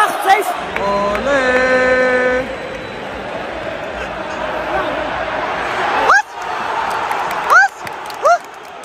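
Loud stadium crowd at the Atlético vs. Real Madrid derby, a dense roar with chanting and whistles that swells and drops, under someone talking close by.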